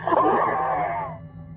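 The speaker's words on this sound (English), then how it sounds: "Subsequently, screams are heard." A woman's scream or anguished wail on a recorded emergency phone call, one loud, strained cry lasting about a second before trailing off into line noise.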